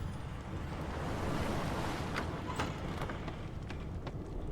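Rough sea waves wash through a shipwreck scene in the video game Divinity Original Sin 2, a faint, continuous surging hiss broken by a few soft clicks.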